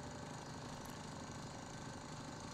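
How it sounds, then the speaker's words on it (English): A rig drilling a deep well cores through rock and boulders with a continuous, rapid hammering clatter and engine rumble, steady and moderately distant, with no voices. "And here's a shot of the actual drilling."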